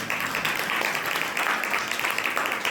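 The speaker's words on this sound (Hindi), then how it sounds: "कम से कम ताली बजाओ उनके लिए।" An audience at a Jain monk's religious discourse in Kopargaon claps steadily and densely throughout, a continuous wash of many hands in a reverberant hall with no clear pauses.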